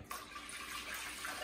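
Water pours steadily into a crockpot of rice and stock for congee, a soft continuous splashing rush that runs for about a second and a half at close range with no talking.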